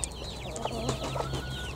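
Backyard chickens, including young chicks and a broody hen's brood, make soft clucks and chirps nearby over a low steady hum, with no one speaking.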